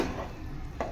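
Biryani rice with drumstick and lemon gently stirred in a pot: a soft, close scraping and shuffling of grains against metal, with one brief clink, over about a second with no talk.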